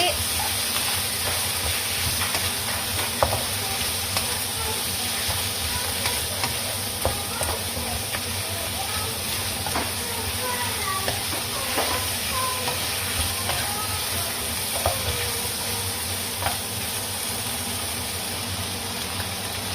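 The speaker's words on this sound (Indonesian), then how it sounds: "Dan lalu kita masukkan cabenya ya. Kita tumis kembali." Chili stir-fries in a pan for a Taiwanese-style beef noodle seasoning, giving a loud, constant hiss and sizzle with scattered scrapes and clicks of stirring throughout.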